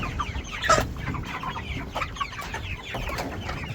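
Broiler chickens cluck in a steady, overlapping chorus close by inside a pen, with one louder squawk near the start and no talking.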